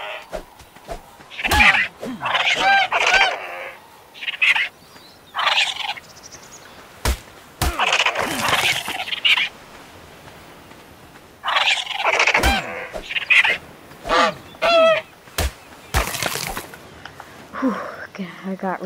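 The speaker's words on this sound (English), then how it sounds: "I got really tired from killing all those dodo birds." Dodo birds squawk and gobble in bursts while being killed in the video game Ark Survival Evolved, the fowl-like calls recurring throughout amid faint whispery sounds and sharp clicks.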